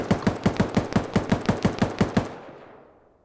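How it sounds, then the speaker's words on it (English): Automatic gunfire in the military shooter game Arma 3, a rapid burst of about fourteen evenly spaced shots, loud and close, ending in a fading echo tail with no voices. "Firing at him right now. Grenades."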